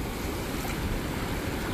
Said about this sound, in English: So clear, and the waves just roll in so gently.